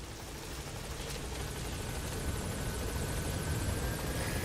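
A helicopter in Metal Gear Solid 5 holds a steady, loud rotor and engine drone with a broadband whooshing roar that swells slightly as it continues, with no voices over it.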